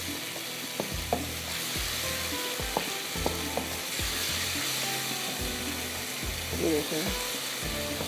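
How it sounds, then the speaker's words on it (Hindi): Chicken tikka boti pieces fry in masala in a pan, giving a steady close sizzle broken by repeated clanks and scrapes of a stirring spoon, while someone talks over it. "अब इसको थोड़ा सा हम करते हैं भुनाई"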